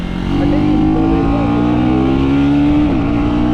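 KTM Duke 125 motorcycle, 2025 model, engine held at a steady loud rev with a rising and falling pitch, close by, continuous for the whole stretch.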